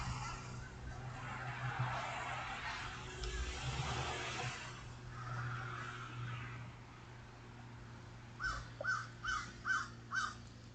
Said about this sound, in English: So many crows right there.